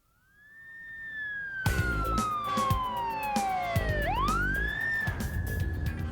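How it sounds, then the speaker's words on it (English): A police siren wails up and down, rising and falling in pitch, loud and close over a rumbling engine and road noise, heard from inside a police car. "we find ourselves in this police car, heading back to the station"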